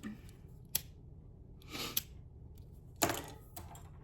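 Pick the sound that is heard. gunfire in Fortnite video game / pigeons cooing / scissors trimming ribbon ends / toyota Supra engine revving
scissors trimming ribbon ends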